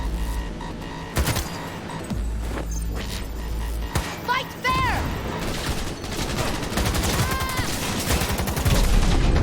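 A light machine gun fires in Cyberpunk 2077, with loud rapid bursts and sustained automatic gunfire, sharp impacts and game effects layered on top, building toward the end.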